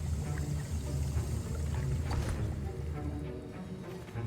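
Potion being stirred in a cauldron in the video game Hogwarts Legacy, a sloshing, liquid churn that repeats steadily over a low ambient hum.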